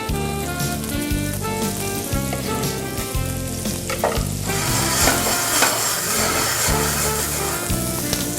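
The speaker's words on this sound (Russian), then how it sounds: "На хорошо разогретую сковородочку выкладываем лук, тщательно прожариваем." Chopped onion fries on a well-heated pan with a loud, steady crackling sizzle, broken by occasional stirring scrapes and no voices.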